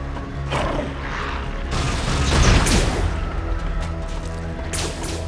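Grenade launcher blasts in the shooter game Unreal 2: a dense, loud stretch of booming explosions and crashing debris, with the strongest burst around the middle, over a steady game soundscape.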